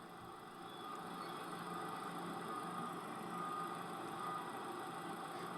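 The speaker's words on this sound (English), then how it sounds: "So here's the engine." Engine of a salvage auction car idling smoothly, a steady low hum and vibration heard up close and alone, with no talk.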